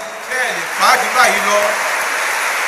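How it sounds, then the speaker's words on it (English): A church congregation clapping at a Sunday service under loud talk and shouts, a dense, continuous patter of many hands filling the room throughout. "Is that the loudest you can clap?"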